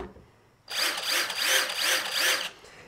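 A DeWalt DCF885 impact driver, about seven years old, runs loudly and close for roughly two seconds, giving a harsh, rapidly pulsing hammering whine that starts and stops abruptly in an otherwise quiet room.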